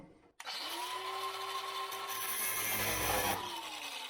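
A small power tool bites into a metal key blank for a sash window lock, starting abruptly and giving a steady, loud grinding whine for about three seconds before easing off.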